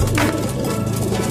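Racing pigeons returning to their home loft coo softly in a steady low murmur that continues throughout, with no talking over it.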